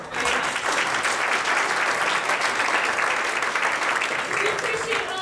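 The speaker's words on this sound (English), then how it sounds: "We appreciate all the applause." A church audience at a children's VBS Christmas program breaks into sustained applause, a dense and loud wash of many hands clapping at once that holds steady throughout.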